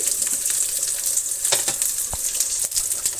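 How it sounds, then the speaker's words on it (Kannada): Onions and dried curry leaves fry in hot oil in a pan, giving a steady close sizzle with a few scraping stirs and brief clinks, and no talking. "ಈಗ ಇಷ್ಟು ಫ್ರೈ ಆಗಲಿ. ಚೆನ್ನಾಗಿ ಫ್ರೈ ಆಗಬೇಕು ಈರುಳ್ಳಿ."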